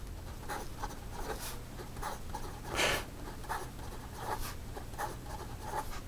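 Visconti Homo Sapiens fountain pen with an extra fine nib scratching across paper, a close, soft run of quick strokes and short scribbles with slight scratchiness, alone against low background hum.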